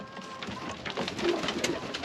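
Pigeons coo softly nearby, overlapping low throaty calls with a faint outdoor hum in the background.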